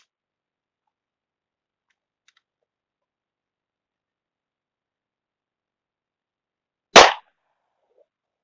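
One sharp, loud handgun shot firing a 124-grain Speer Gold Dot bullet in a bullet performance test, a single crack that ends quickly and is surrounded by near silence.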